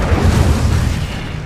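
Incendio fire spell cast during combat in the Hogwarts Legacy video game, a loud, dense booming whoosh with a heavy low rumble that holds steady for over a second before easing slightly.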